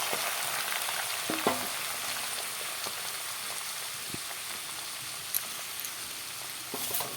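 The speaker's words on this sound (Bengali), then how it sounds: "আলুটা ভাজা বসিয়ে দিলাম" Potatoes frying in a hot wok, a steady, fairly quiet sizzle and hiss with occasional sharp knocks of a utensil, nobody speaking.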